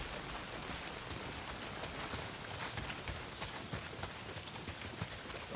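Heavy rain pours in the video game Days Gone, a dense, steady hiss of drops hitting surfaces that fills the whole stretch at moderate loudness with no talking.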